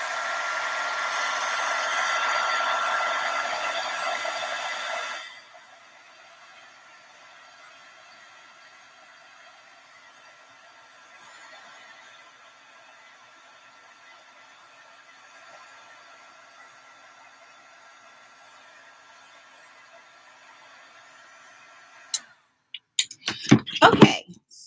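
A hair dryer drying layered tags roars steadily for about five seconds, then stops. A faint hum follows, and a few knocks and clatters come near the end.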